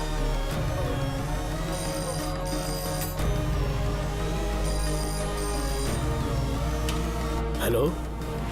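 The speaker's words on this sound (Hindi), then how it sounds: "पहले घर फोन करके देखो" A telephone rings steadily at home in a Hindi-dubbed film scene, its repeating tone sitting over music and voices before a short burst of noise near the end.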